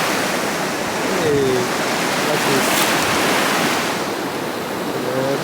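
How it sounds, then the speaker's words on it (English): Small waterfall on a river in the Zion Narrows, a steady broadband rush of falling water close by, with a brief spoken remark over the flow. "Cool little waterfall."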